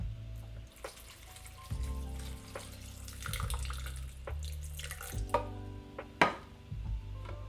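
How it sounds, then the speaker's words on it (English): Water splashes and runs steadily into a vessel nearby, with a low mechanical hum beneath and a brief clink near the end. "And then you got to add a cup of water."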